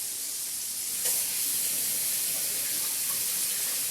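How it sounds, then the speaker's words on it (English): Food cooking in a cast iron skillet gives a steady, close, even sizzling hiss throughout, with no talking. "And I'm cooking this in a cast iron skillet."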